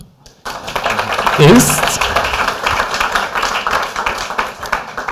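An audience applauds as a trio returns to their seats at a fellowship program presentation, a dense round of clapping under a speaker's voice that runs through.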